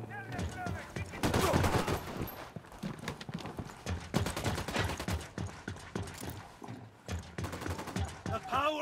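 Automatic gunfire in the Ghost Recon Wildlands video game: dense, loud bursts of rapid shots in several clusters with brief gaps between them, close and harsh, with no speech during the firing.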